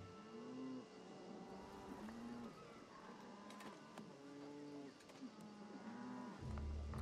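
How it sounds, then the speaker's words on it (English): Cows moo in a video game: several long, low, drawn-out calls follow one another at a calm, steady pace over a soft ambient background, with no talk. "Zoom into the calming mooing of cows."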